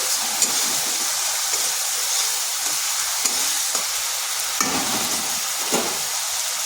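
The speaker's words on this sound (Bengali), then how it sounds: "একটু ভালোভাবে এইভাবে নেড়ে নিতে হবে, টমেটোটা নরম হয়ে যায়।" Tomatoes cooking in a pan are stirred until soft, with a steady, loud sizzle running throughout and soft scraping strokes of the spoon recurring every second or so.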